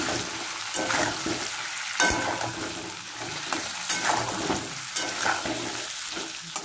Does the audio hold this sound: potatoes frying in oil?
yes